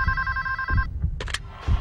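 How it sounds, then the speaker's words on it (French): A telephone rings inside the video game GTA V, a steady electronic trill that stops abruptly, with low rumbling game sounds underneath. "Ah, y a un téléphone."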